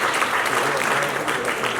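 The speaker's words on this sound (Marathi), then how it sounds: "एकदा जोरदार टाळ्या व्हायला पाहिजे." Audience applause at a Marathi movie trailer and music launch, a dense, steady wash of clapping from a crowd that fills the whole moment.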